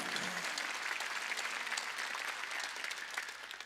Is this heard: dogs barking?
no